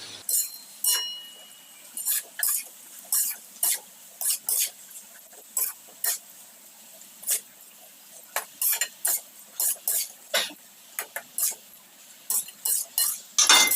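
Boiled peeled potatoes being stirred in a pan for Marathi potato bhaji, repeated short clinks and scrapes of a spoon against metal at a steady, unhurried rhythm, close and clear with no talk.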